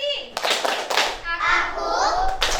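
A group of children in a classroom claps in a concentration clap game, a few sharp hand claps mixed in with their loud chanted voices.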